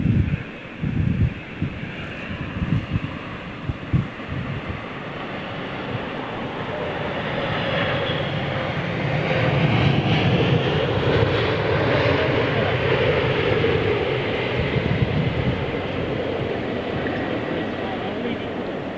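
Jet aircraft engines at Heathrow Airport spool up into a loud, broad roar that swells and holds steady, with wind buffeting and rustling close to the microphone early on.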